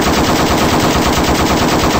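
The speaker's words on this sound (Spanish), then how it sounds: "ustedes agarren las armas y disparen" Sustained rapid gunfire from weapons fired during a comedy skit, a loud, dense burst of automatic shots filling the whole moment with no talking.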